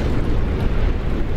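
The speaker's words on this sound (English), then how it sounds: "It sounded like an explosion." A deep, rumbling blast from a temple in the game LostInBlindness, a heavy low roar that fills the brief moment, loud and without talking.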